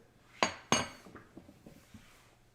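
A spoon clinks against a glass while mixing a honey and lemon drink: two sharp, ringing strikes up front, then several softer taps trailing off, close by in a quiet kitchen.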